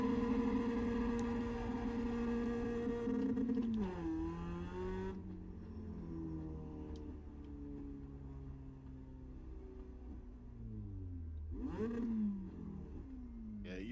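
A race car engine in the iRacing sim howls at high revs, then drops in pitch as the driver lifts and brakes, later revving up again; moderately loud and steady, with no talking.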